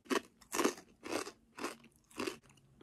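A crunchy snack bitten and chewed up close, five loud, sharp crunching bursts in an even rhythm with short quiet gaps between them.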